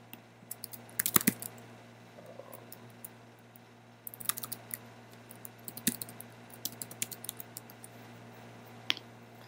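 Keystrokes on a computer keyboard while setting up IntelliJ with Scala on a Mac, sparse clicky taps in short bursts separated by pauses, faint and close over a steady low hum.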